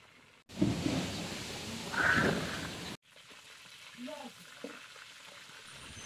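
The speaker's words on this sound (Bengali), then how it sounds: "এখন আমাদের মাংস ভাজি হওয়া শেষ হয়ে গেছে" Meat frying in a pan, a loud broad sizzle for a couple of seconds that cuts abruptly to a quieter, softer frying hiss with faint clatters.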